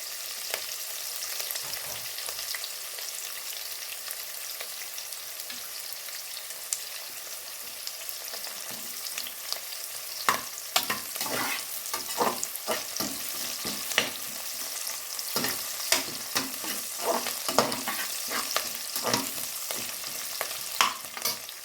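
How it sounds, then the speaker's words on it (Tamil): Curry leaves and coriander sautéing in a pan for a village-style green gram rice, starting as a soft sizzle and turning into busier, louder stirring and scraping through the second half, with no voices. "நல்லா வதங்கிட்டோம்."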